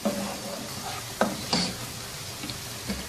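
Finely chopped onions fry in a pan, giving a steady close sizzle with a few scraping stir sounds from a spoon against the pan.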